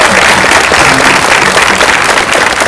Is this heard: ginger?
no